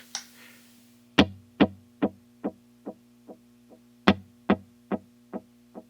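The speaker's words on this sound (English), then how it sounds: "It kind of rolls off the high end frequency, so it sounds more of an echo sound." An electric guitar run through an echo delay pedal set to dotted eighths, its high end rolled off: two picked notes, each followed by a train of fading repeats, over a steady hum.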